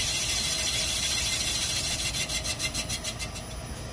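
A boring machine cuts through an engine cylinder bore near the bottom with a slight interrupted cut. A steady close scraping hiss turns into a rhythmic pulsing rasp of rapid regular beats.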